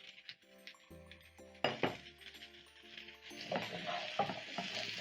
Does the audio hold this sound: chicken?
no